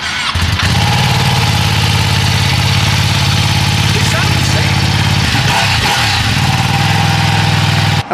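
Ducati Panigale V2 motorcycle with stock exhaust, its engine running loud and steady at close range, a throbbing low rumble held throughout with a brief dip near the end.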